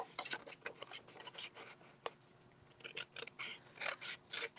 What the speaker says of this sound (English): Then I take my scissors,